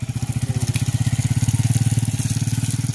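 An old Yamaha motorcycle engine runs at a steady low idle close by, its rapid regular firing pulses loud and unbroken, with no talk over it.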